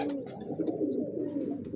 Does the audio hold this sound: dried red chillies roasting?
no